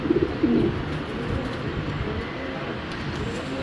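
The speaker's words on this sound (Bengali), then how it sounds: "চলুন কবুতর দুইটা একটু বাইরে নিয়ে দেখাই" Racing pigeons coo in a few soft, close bursts at the start, followed by a noisy indoor background.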